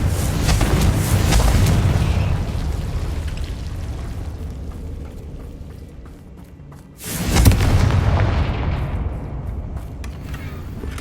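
Explosive spells cast in the video game Hogwarts Legacy go off as loud, deep booming blasts, one long rumbling burst up front and a second sharp detonation partway through, each trailing off into a fading roar.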